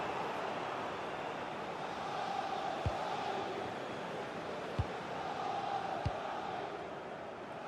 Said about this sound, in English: the ref will hear the crowd all right